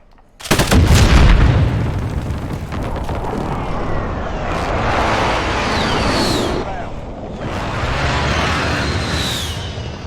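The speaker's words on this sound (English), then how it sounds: "Friendly precision airstrike inbound" Gunfire and precision airstrike explosions in Call of Duty: a sharp burst of shots then a heavy booming blast rolling on, followed by further rumbling detonations with whistling incoming streaks, loud and close, no talk.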